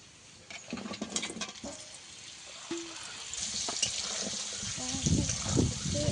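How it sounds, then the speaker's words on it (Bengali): Raw mango pieces, unseasoned, dropped into hot oil in a pan and stirred over a low flame, giving a steady patter and crackle of frying that swells toward the end, with clinks and brief voices. "এবারে আমটাকে আমি একটু ভেজে নেব এই তেলের মধ্যে।"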